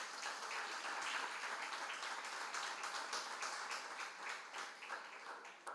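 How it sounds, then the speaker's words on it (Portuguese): A church congregation claps for Jesus during a sermon, a dense, steady wash of many hands applauding throughout, loud and continuous with no talking over it. "dá palmas para Jesus"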